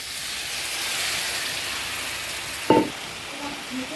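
Vegetables frying in a pan on the stove give a steady loud hiss just after a little water is added, with a sharp short clatter near the end, alone without talk.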